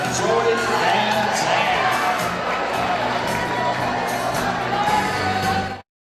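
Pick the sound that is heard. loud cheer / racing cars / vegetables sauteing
loud cheer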